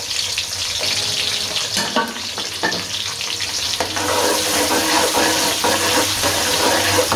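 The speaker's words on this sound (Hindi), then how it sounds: "और इसको हम लाइट सा ब्राउन कर लेंगे।" Finely chopped onion frying in cooking oil until lightly browned, a loud continuous sizzle with intermittent stirring clatter, swelling even louder in the second half.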